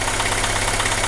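A Renault Megane 2 engine runs at a steady idle, close and continuous, with a dense even hum and slight rhythmic pulsing across the brief moment.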